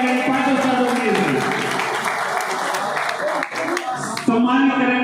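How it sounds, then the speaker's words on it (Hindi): An audience at a Rajasthan pigeon-flying tournament awards ceremony applauds to welcome five pigeon-flying masters, with dense sustained clapping mixed with crowd noise and a voice over a loudspeaker. "जोरदार तालियों से स्वागत कीजिएगा 5 उस्तादों के लिए।"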